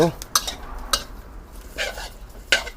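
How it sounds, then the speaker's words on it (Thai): Dried chilies are dry-roasted in a pan after herbs, stirred with a utensil for a Thai tom klong dish with dried snakehead fish head. A handful of sharp scraping and clinking strokes stand out over a low background, with no talking. "พริกตามลงไปคั่ว เนี่ยคั่วส่วนพริกนี่มันจะไหม้ได้ง่ายกว่า"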